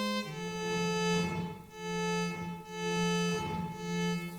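A Mixtur-Trautonium plays a steady electronic tone with echo reduced to a minimum, rich in stacked harmonics, with a lower and a higher pitch alternating in slow swells, loud and close with no talk.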